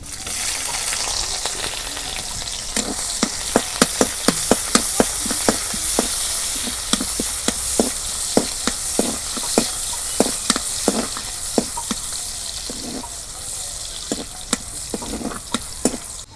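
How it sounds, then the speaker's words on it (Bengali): Dried fish frying in hot oil gives a loud continuous sizzle, dotted throughout with quick crackles and spatter pops. It is close and has no talk over it. "প্রথমে আমি শুটকি মাছ দিয়ে দেবো তেলের মধ্যে"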